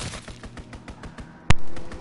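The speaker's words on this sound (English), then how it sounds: "Strafing run inbound." Strafing run in a zombies shooter game, heard as a rapid train of gunfire bursts followed by one sharp, loud blast that rings out and fades.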